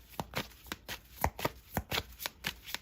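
Tarot cards are riffled and shuffled in a quick, even run of about a dozen soft papery slaps, close and fairly quiet with no talking.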